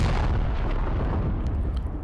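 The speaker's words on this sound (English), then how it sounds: "More indirect fire." Indirect artillery fire landing in Squad around a bridge, a continuous rumbling roar of explosions, loud and dense throughout with no clear speech.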